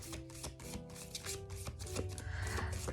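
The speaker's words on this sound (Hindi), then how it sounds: "जब तक मैं कार्ड्स को शफल कर रही हूँ" Tarot cards being shuffled up close, a series of crisp riffling and sliding card bursts in quick irregular rhythm, fairly quiet with no talking.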